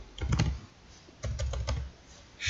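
Two short bursts of typing on a computer keyboard while writing VBA code in Excel, close crisp key clicks in quick clusters separated by a pause, with no speech.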